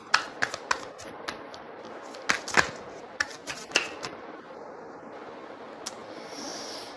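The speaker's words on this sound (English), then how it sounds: "So many cards. So many times I shuffled," A deck of tarot cards is shuffled by hand, producing a quick run of crisp riffling snaps and slaps close up, with a couple of louder flicks mid-way and a quieter rustle toward the end.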